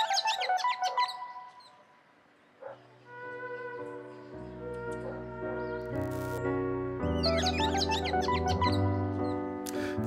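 Birdsong recorded by a musician for an album, bright chirping phrases blended with sustained harmonized musical tones that swell and layer, moderately loud with no speech.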